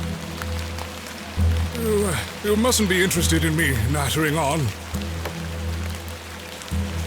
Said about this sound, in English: Terrible weather this evening, is it not?